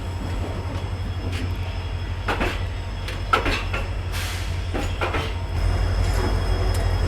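Riding aboard the Thiruvananthapuram to Mangaluru Malabar Express passenger train, a steady low rumble of coaches on the rails with scattered clanks, rattles and brief metallic squeals from the car interior.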